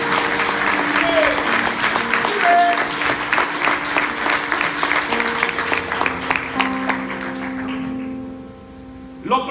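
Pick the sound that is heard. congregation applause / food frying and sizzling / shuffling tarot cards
congregation applause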